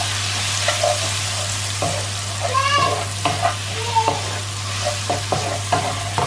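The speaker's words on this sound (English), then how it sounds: "And I'm gonna give it a good stir." Salmon in a creamy mushroom sauce being stirred and fried in a pan: a steady sizzle under scattered utensil scrapes and clinks, with a constant low electrical hum.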